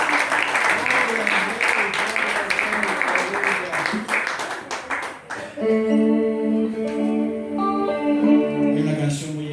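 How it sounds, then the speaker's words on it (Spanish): A church congregation at a Sunday worship service breaks into loud, dense applause that lasts about five seconds under a voice, then fades as sustained music begins. "Denle un aplauso al Señor."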